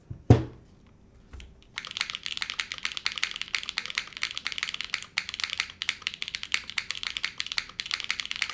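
Fast, steady typing on a custom-built Regression60 mechanical keyboard, close and crisp, with dense clacking keystrokes that follow a single knock and a short pause at the start.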